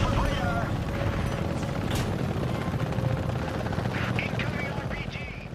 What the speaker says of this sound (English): Now the Apache is a tandem seat helicopter for a crew of 2 pilots.